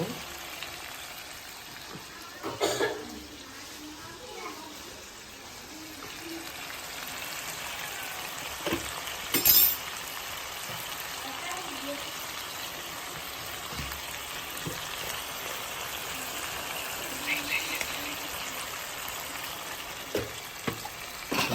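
Mutton frying in oil after chili powder is added: a soft, continuous crackling sizzle like light rain, broken by a few sharp clanks of a utensil, with no clear talking.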